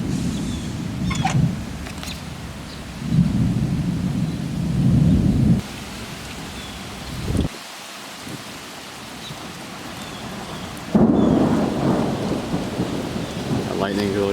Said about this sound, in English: So you can hear faint rumbles of thunder in the distance